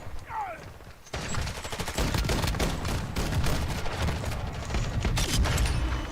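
Gunfire in Warzone 2, dense rapid bursts of shots that start abruptly after a short quieter stretch and keep going loudly and steadily, with a short voice at the start.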